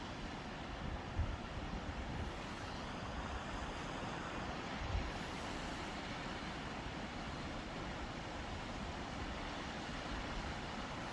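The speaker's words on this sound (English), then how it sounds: "You see the water falling underneath the ice." Water falls beneath ice at a frozen winter waterfall in Yellowstone, making a steady, broad roar that holds at an even level throughout and masks everything else.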